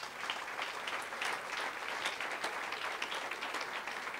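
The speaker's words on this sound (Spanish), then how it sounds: "Den un aplauso fuerte al Señor." A church congregation gives steady, dense applause, a continuous wash of many hands clapping at moderate distance with no speech over it.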